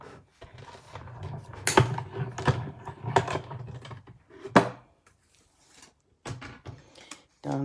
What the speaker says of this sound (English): And cut it with the die.